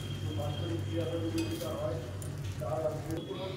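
Breakfast snack food sizzles in oil in a pan with a steady, moderate frying hiss, while a voice talks over it and a utensil clinks briefly.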